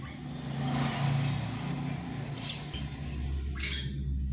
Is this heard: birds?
yes